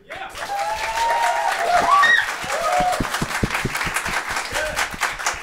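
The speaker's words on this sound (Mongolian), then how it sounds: "За бүгдээ одоо алга ташилтаар ялагчаа тодруулъя. За сүлдээ дээр алга жишээ." Mongolian roast battle audience clapping to vote for comedian Suldee, a steady crowd applause of scattered hand claps that swells and holds for several seconds with voices mixed in.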